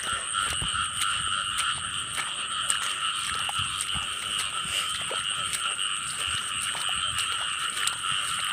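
A dense chorus of frogs croaks steadily across a newly flooded rice field, loud and continuous with rapid pulsing calls and faint background movement.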